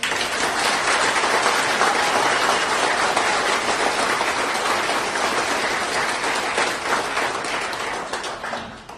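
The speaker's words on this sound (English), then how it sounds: "If we could take a moment and give a round of applause for those." Audience applause at a corrections academy graduation ceremony, dense sustained clapping from a large crowd that fades slightly toward the end.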